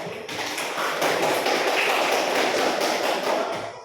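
A classroom audience claps together in a sustained burst of dense, even applause lasting a few seconds before tapering off, with no voices over it.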